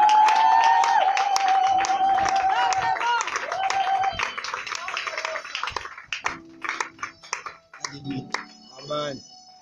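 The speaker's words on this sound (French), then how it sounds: "on acclame ce fort" A church evening crowd claps and cheers to welcome a preacher. Dense applause mixes with sustained voices and tones, then thins into scattered claps and talking.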